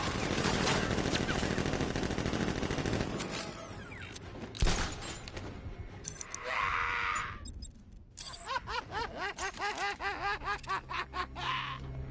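Guards' gunfire in Batman Arkham Knight rattles in a loud, sustained burst that thins into scattered shots, followed by a voice laughing in rhythmic cackles over background noise.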